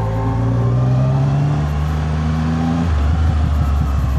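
A 675 SR-R motorcycle engine revs loud and close, its pitch climbing steadily before dropping back to a rough, rumbling idle.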